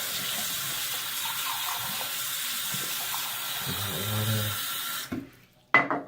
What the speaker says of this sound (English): So, wash my hands off.